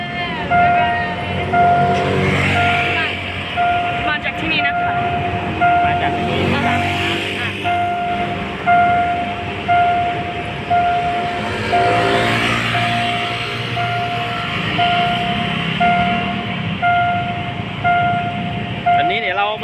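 A steam locomotive passes a railway crossing on Asok Montri Road with a steady warning bell ringing throughout, engine rumble and horn-like tones swelling and fading, with people talking nearby.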